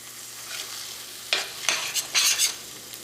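Fish roe with salt and grated coconut being stirred in a pan for a Kerala egg fry, a faint sizzle under scraping spoon strokes that come in short bursts toward the end, with no voices.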